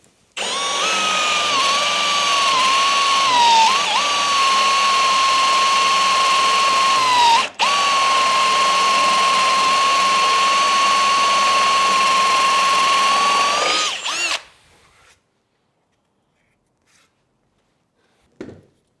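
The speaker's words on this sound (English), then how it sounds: "So now it's just a case of drill this hole" A power drill whines steadily at high speed boring a hole in wood, briefly dipping and pausing midway, then runs on before stopping, leaving near silence with a faint click at the end.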